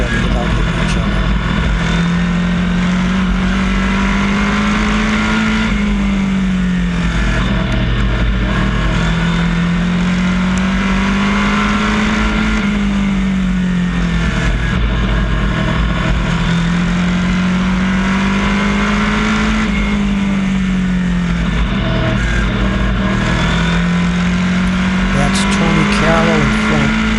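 Race cars running close together on a track, a loud continuous engine drone that rises and falls in repeating sweeps as they lap, with a commentator talking over it throughout.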